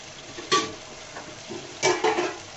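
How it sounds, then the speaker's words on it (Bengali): Green chillies stir-fried in hot oil in a pan while cooking a rohu fish head curry with beans, potato and eggplant: two distinct spatula scrapes and stirs over a faint, steady sizzle, close and alone. "কাঁচামরিচ গুলো দিয়ে ভালো মতো কষিয়ে নিব"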